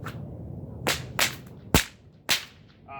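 A whip cracks four times in quick, uneven succession in a Victorian Cutback trick, sharp and loud, each snap standing alone against a quiet background.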